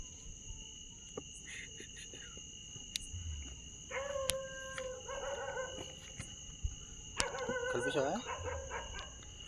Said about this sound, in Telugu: ఎక్కడి నుంచో మనకి లైట్గా కుక్క అరపలు కూడా కనపడుతున్నాయి